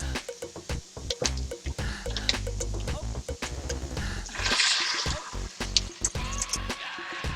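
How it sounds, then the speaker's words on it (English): Wine poured slowly into a pot holding browned pot roast meat, a close wet splashing and gurgling amid clinks and scrapes, with bursts of sloshing and a steady liquid stream through the middle. "I'm going to add the wine back slowly to this"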